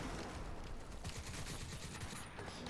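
Sustained gunfire from a Crysis 2 firefight, dense overlapping automatic shots forming a loud continuous barrage that barely lets up.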